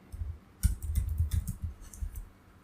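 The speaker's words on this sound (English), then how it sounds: "typing ipconfig." Quick bursts of keystrokes on a computer keyboard as a command is typed into a terminal, a brief pause giving way to a steady run of close, crisp clicks that then taper off.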